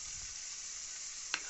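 Onion, garlic and ginger paste fries in a pan for prawn malaikari, giving a steady broad sizzle while being stirred, with a sharp scrape of the utensil near the end and no voices.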